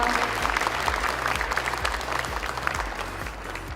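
Applause greeting the CEO of B-Fly Soft at the company's KONEX market listing ceremony, a dense, continuous round of clapping from the audience over a rhythmic low thumping, lasting the whole stretch.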